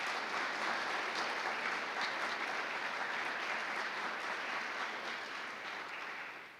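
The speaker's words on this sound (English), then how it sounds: "Please give yourself a round of applause." Full, continuous applause from a high school audience at an assembly, holding loud and steady before tapering slightly at the end, with no voices over it.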